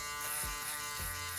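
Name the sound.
single foil electric shaver cutting hair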